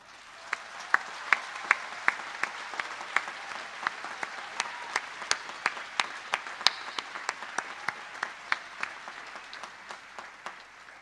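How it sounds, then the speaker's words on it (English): Graduates at a December graduation ceremony give a round of applause, steady mid-level clapping from a large crowd, with distinct individual claps popping out sharply and near throughout. "I think it'll be most appropriate of our graduates to acknowledge the support with a hearty round of applause."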